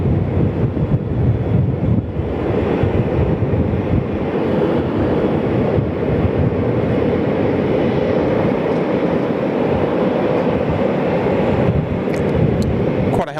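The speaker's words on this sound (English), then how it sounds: "Quite a healthy takeoff roll there from Thai." A Thai Airways jet on its takeoff roll at Sydney Airport, a steady, loud engine roar that holds constant throughout with no voices.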